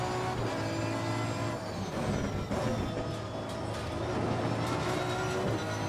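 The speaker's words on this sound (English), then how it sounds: "Internally, the nuances of the engine note, gear train and other systems sound very convincing." A racing car engine in the video game Assetto Corsa Competizione roars steadily with a high gear whine layered on top, loud and close, with no pauses throughout.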